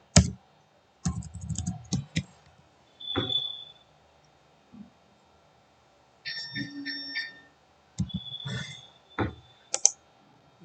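Bursts of computer keyboard typing, quick clustered keystrokes separated by pauses, close and clear in a quiet room, with occasional soft software alert tones between them.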